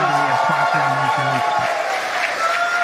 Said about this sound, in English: by the cheers behind us, the Polaris Dawn crew has successfully splashed down